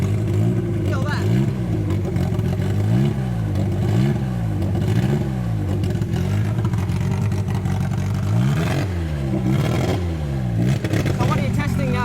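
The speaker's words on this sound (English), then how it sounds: "Because it's on the engine dyno, there is no throttle pedal, yeah? Right, it's a pure naked engine." A bare car engine runs on an engine dyno with no throttle pedal, revving up and down in repeated loud swells over a steady drone, heard up close with voices talking over it.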